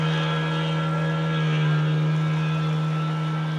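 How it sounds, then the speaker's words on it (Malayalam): Speedboat towing another boat near Gokarna, a steady droning engine hum with a strong low tone and whining harmonics, held at an even level from start to finish. "ഇതിൽ ബോട്ട് സർവീസ് കണ്ടോ, സ്പീഡ് ബോട്ട്."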